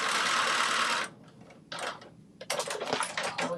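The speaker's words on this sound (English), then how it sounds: "Do my little back stitch." Sewing machine running a back stitch on a New Look 6288 garment: a loud, fast rattling burst of stitching, a pause, a short run, then another choppy burst of needle clatter, with no talk.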